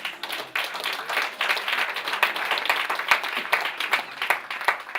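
A church congregation claps continuously throughout: a dense, even crackle of many hands, loud and close, with a few sharper individual claps poking out and no one speaking.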